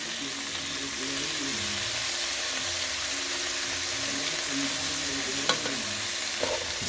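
Vegetables, onions among them, frying in a pan with oregano, black pepper and salt, stirred so they keep moving: a steady close sizzle with soft scraping throughout and a couple of sharper utensil knocks near the end.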